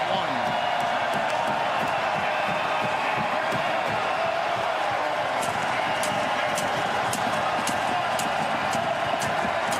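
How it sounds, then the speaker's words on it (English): A hockey crowd roars at Ricoh Coliseum as the Toronto Marlies lead 2-0 near the end of the first period of Game 7 of the 2018 AHL Calder Cup Finals against Texas. The sustained cheering runs for the whole stretch beneath a commentator's voice. "Listen to this crowd as we finish out period 1."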